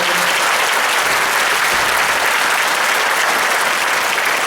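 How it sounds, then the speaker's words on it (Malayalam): A church congregation applauding together at a Second Saturday talk, dense continuous clapping from many hands that fills the room evenly from start to finish. "ഒന്നുകൂടെ കൈയടിച്ച് കർത്താവിനെ മഹത്വപ്പെടുത്തുക"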